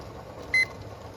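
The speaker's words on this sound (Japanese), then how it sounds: "ここから今回の処理時間75分間のタイマーをスタートさせます。" A single short electronic beep from a timer being started during pressure canning of jarred meat sauce, clear and brief over a faint background hum.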